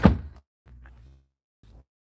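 A car door shuts with a single solid thunk at the start, followed by faint low shuffling and rustling as someone settles into the seat.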